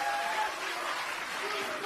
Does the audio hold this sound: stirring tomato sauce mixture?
no